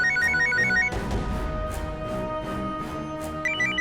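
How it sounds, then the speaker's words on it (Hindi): A mobile phone ringtone chimes in a courtroom scene of a Hindi crime drama, a repeating high melodic tone pattern that drops out briefly under a dense low music swell, then resumes near the end. "आप उठाइए अपना मोबाइल"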